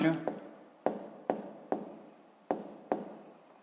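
A pen writes figures on paper in a maths exercise book. Six or seven short, crisp scratching strokes come close and clear, spaced about half a second apart, each fading quickly.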